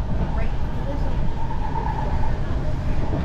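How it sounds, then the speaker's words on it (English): Steady low rumble of a passenger train riding toward London Waterloo, a continuous rolling drone with faint rail noise, heard from inside the carriage. "Here we are in the train, galloping on the way to London Waterloo."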